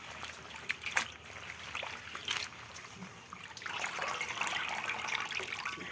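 Water runs and splashes over pumpkin leaves being rinsed clean after soaking in salt water, a continuous soft trickle with brief splashes and handling noises, growing a little steadier toward the end.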